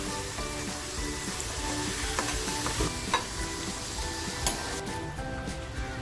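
Potato pieces fry in hot oil in a home kitchen pan, a steady crackling sizzle running throughout with occasional louder pops and stirring scrapes.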